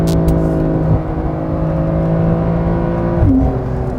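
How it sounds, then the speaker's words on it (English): A 2020 Porsche 992 911 Carrera S flat-six in sports mode drones close and steady with a rough, mechanical tone and a low hum that swells slightly near the end as it pulls. "There's just something about Porsche Flat 6. It sounds very rough, you know? Sounds very mechanical, and I can really hear the turbo spooling up from behind."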